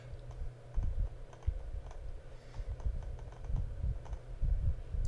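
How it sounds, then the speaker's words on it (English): Computer keyboard typing during a Kubernetes software demo, a steady run of close, light key clicks at moderate level, with no one speaking. "I think I started typing."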